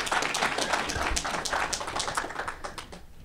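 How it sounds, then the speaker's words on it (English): Audience applause at a college basketball coach's introductory press conference, welcoming his wife Amanda: a crisp, close patter of individual hand claps that holds steady, then thins and fades toward the end. "Let's give her a round of applause, please."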